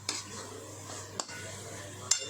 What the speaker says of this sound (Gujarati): આ રીતે બધું મિક્સ કરી દેવાનું આપણે ધીમો ગેસ રાખીને જ